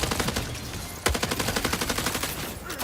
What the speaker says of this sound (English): Oh, I'm being sniped at